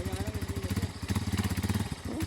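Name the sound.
motorcycle driving fast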